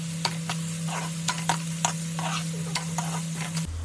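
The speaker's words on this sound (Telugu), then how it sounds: "తర్వాత అదే ఆయిల్లో ఆనియన్స్, చిల్లీస్, ఉప్పు, పసుపు వేసి వేయించండి." Onions, chillies, salt and turmeric sizzling in hot oil in a pan, with a steady fry hiss broken by repeated sharp clicks of a spoon stirring against the vessel, no voices.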